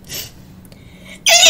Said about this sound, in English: Jeez, I'm sneezing.